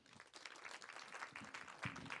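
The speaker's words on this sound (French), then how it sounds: "je vous demande d'applaudir très chaleureusement son vice-président Yannick Rubichon." An audience applauds at a pastry award ceremony for a signature dessert trophy, with steady, fairly faint clapping that swells slightly near the end.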